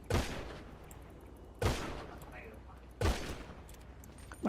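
Gunshots from a Thai-played shooter game's airdrop match ring out in three loud, sharp bursts spaced about a second and a half apart, each decaying quickly over a steady background hum.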